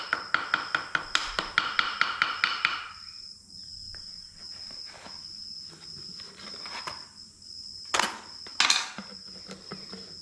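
A ball-peen hammer taps out a quick run of sharp, even strikes while cutting a gasket on a Bush Hog gearbox. A few scattered, fainter taps follow after a pause, and louder hits land near the end.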